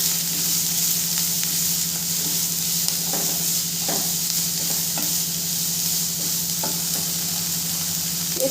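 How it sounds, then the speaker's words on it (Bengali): Capsicum and grated carrot frying in a pan while being stirred, a constant loud hiss and sizzle with occasional soft spatula scrapes and knocks, close by. "একটু নেড়ে দেবো।"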